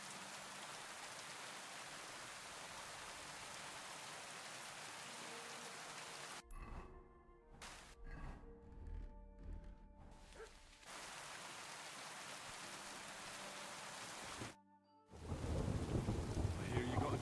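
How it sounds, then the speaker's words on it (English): Steady heavy downpour with rolling thunder in the medieval world of Kingdom Come: Deliverance II, a constant hiss of rain broken by a quieter stretch and a sudden loud thunder crash near the end. "Always downpouring."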